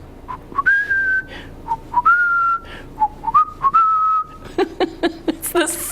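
A man whistles his familiar tune in a newsroom, clear rising and falling melodic phrases, close and loud, ending in a run of quicker short notes.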